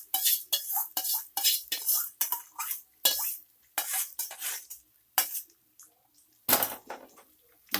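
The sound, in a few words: mixing khara pongal in a pot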